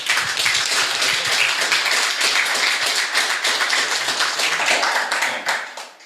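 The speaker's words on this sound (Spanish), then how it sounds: "Vamos a un aplauso." Audience applause at a 2023 gas-utility workshop presentation for Camuzzi Gas Pampeana: dense, steady clapping from a crowd, sustained for about six seconds before tapering off at the end.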